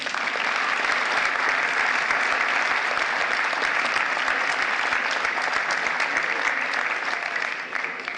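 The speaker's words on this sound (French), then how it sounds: "vous pouvez tous les applaudir en une fois" Steady, dense applause from a large crowd at a New Year's greetings ceremony, sustained at full strength throughout and only easing slightly at the very end.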